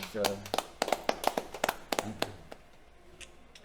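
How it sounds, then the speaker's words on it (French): Scattered, light hand claps from a small audience in a podcast studio, close and uneven, mixed with people talking, thinning out toward the end. "Bonne main d'applaudissements"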